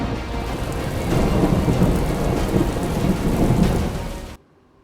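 Heavy monsoon rain pours steadily in Gujarat while deep thunder rumbles and swells through the downpour, loud and continuous, before the sound cuts off abruptly at the end.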